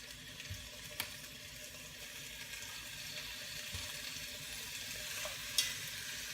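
Rolled beef braciole frying in an oiled pan over medium heat, a steady, fairly quiet sizzle with occasional faint pan clicks.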